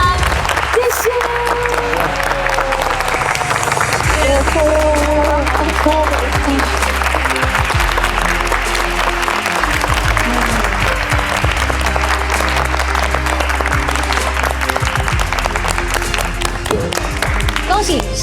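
Sustained, loud applause from a studio audience greets a chef on the cooking competition show Stellar Bites. The clapping fills the whole stretch evenly, with a brief voice offering thanks and a low music bed underneath.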